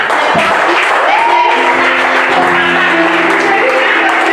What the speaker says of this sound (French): Acclame très fort pour cette grâce.